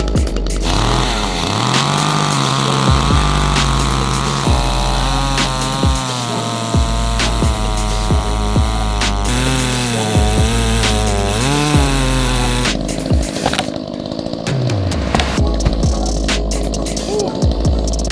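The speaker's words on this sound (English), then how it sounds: "how to use and maintain your gas chainsaw" An Echo gas chainsaw runs loudly and close for a long stretch, its motor revving up and down between idle and high whine.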